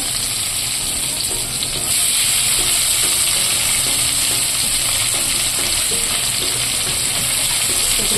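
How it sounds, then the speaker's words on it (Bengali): Onions fry in hot oil for a restaurant-style mushroom dish, a dense, loud, continuous sizzle and crackle that intensifies slightly after a couple of seconds and holds steady without talk. "এখন আমি পেঁয়াজগুলো দিয়ে নেব এগুলো প্রথমে লাল লাল করে ভেজে নেব"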